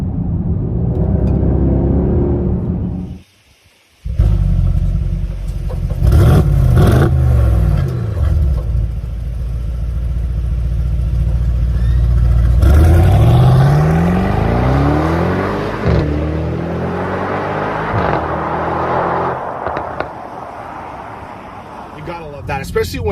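A 2021 Mercedes-AMG GLS63 SUV with its 603-horsepower engine revs loudly and up close, rising and falling through several strong throttle blips with a deep rumbling exhaust, briefly cutting out early on, with no talking over it.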